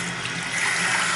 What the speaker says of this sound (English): Water pressure in this building is great